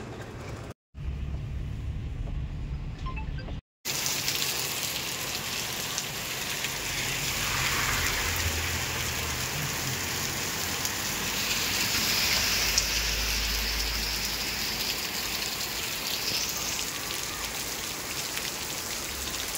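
Heavy rain pours down steadily in a dense, loud hiss that barely changes, interrupted twice by brief drops to silence near the start.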